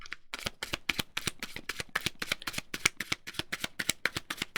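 Tarot cards riffle-shuffled in quick succession, close and crisp, a fast run of rhythmic flutters after a brief pause at the start; no talk.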